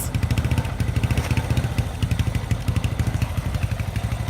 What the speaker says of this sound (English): Oh man, it's even idling!